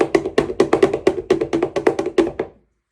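Caster sugar is creamed into margarine in a bowl with a spoon or utensil, producing about a dozen fairly loud, rhythmic thumping knocks in quick succession, then stopping abruptly.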